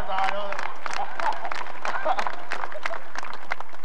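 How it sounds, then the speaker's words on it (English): Crowd at a university national championship celebration ceremony clapping along in a steady rhythm, a dense patter of many hands close by, with voices mixed in throughout. "Can everybody clap up with me a little bit?"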